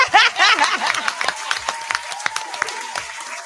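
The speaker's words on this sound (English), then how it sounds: "Let me clap for Coach My Growth" A few people clapping in a small group with laughter and chuckling mixed in, sparse irregular claps continuing under voices.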